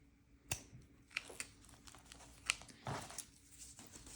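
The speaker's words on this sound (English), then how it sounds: "I'm going to use my pinking shears to try and cut down on any fraying. I'm just going to cut right through the zipper tape." Pinking shears snip through the zipper tape of a separating zipper on a kids' raincoat, producing several faint, crisp crunching cuts spaced irregularly against a quiet room background.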